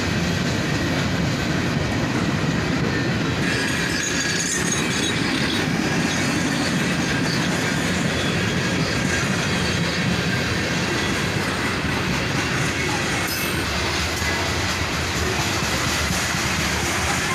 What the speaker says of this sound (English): And some family line cars on the rear end of this train here.